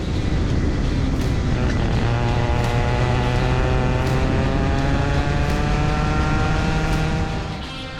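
Go-kart engines on a race track in a kids' race, a loud continuous close buzzing drone with a rising and shifting engine whine throughout, and no talking.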